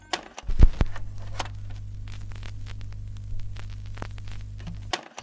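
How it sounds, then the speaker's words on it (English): A low steady hum sits under scattered soft clicks and tiny pops, like the crackle of a record before any music starts. "That soft crackle, those tiny pops."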